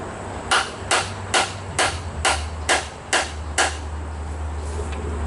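A hammer drives nails into wood while saw horses are built: eight sharp, evenly spaced strikes, close and loud, over a steady low background hum.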